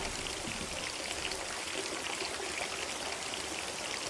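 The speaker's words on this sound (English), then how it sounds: "I like the sound of the water." Flowing water in the video game Mountain Crime: Requital, a steady continuous stream-like rush with fine trickling texture, even and unbroken.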